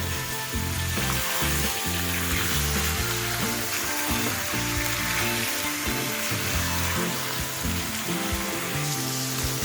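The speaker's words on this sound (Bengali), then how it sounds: "এবার মিডিয়াম টু হাই ফ্লেমে মাটনটাকে হালকা ব্রাউন করে একটু ভেজে নেব।" Mutton pieces fry on a medium-high flame as they begin to brown, giving a dense, continuous sizzle close by with no talk, accompanied by a steady low background hum.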